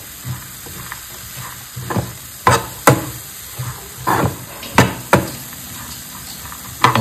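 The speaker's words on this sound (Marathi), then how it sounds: "आता मस्त फ्राय होते खूप छान" Usal, a sprouted-bean curry, frying in a pan at home, giving a low steady sizzle broken by several sharp crackles and pops spread irregularly through the span, with no talking.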